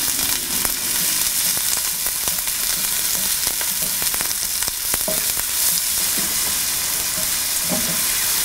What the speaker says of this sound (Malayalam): ഇതിലോട്ട് എടുത്തു വച്ചിരിക്കുന്ന സവോള, 1/2 കപ്പ് ഉപ്പ് എന്നിവയിട്ട് മിക്സ് ചെയ്യുക.